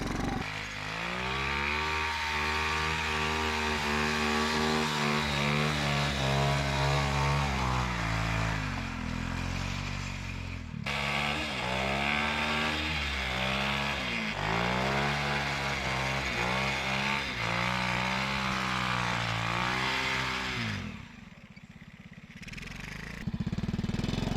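A homemade snow bike's engine runs loud and close, revving up and down in repeated surges for about twenty seconds before dropping off near the end.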